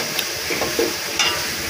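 Tomatoes frying with browned onions in a pan, a steady sizzle with scraping stir strokes and a few light clinks, close and alone.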